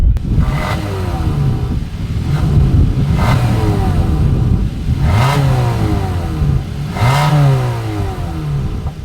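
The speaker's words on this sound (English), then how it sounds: "As always, here is that exhaust clip." A 2025 Hyundai Tucson SUV engine revs repeatedly through its exhaust, rising and falling in four or five strong pulls over a steady rumbling idle, loud and close.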